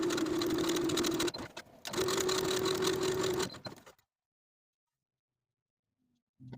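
A sewing machine stitches darts on back bodice pieces for a ruched dress, running steadily in two loud bursts with a brief pause between, then falling silent.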